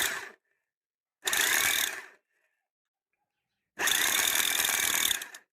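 A power tool drilling a hole runs in two bursts, a short one and then a longer steady whine with a gritty edge, separated by silence.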